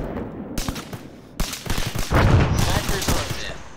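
Gunfire in Arma 3 during a squad operation: several loud, sharp shots and short bursts land in quick succession, some close and punchy, others echoing, with a voice briefly mixed in.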